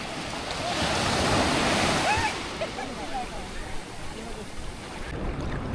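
Sea surf rolling onto Om Beach in Gokarna, a broad steady wash of breaking waves that stays loud throughout, with people's voices faintly mixed into the roar.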